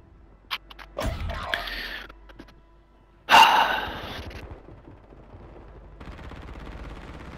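Pistol shots in the video game Warzone Resurgence, a few sharp cracks including one loud close burst, followed by quieter game noise.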